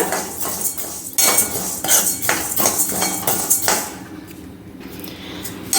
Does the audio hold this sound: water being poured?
no